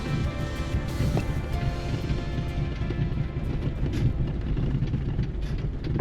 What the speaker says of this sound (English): the wind is wailing out here, so I don't know how well you'll be able to hear us